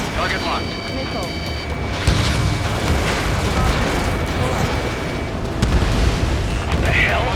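A missile launches and explodes in Ace Combat 7, heard as dense booming and rumbling over constant jet engine roar, with radio voices talking throughout.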